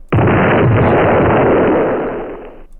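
A single loud bomb explosion in the video game Rain World, a close, sudden broad blast that holds for about two seconds before fading out, with no talk.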